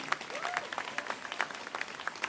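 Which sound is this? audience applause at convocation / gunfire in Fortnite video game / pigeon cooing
audience applause at convocation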